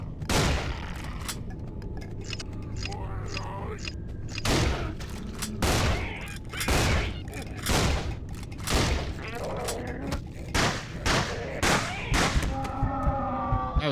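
Shotgun blasts ring out in the horror shooter game Nightmare House on hard mode, a string of sharp, loud booming shots spaced a second or two apart, each followed by a brief decaying tail, with some quiet game ambience between.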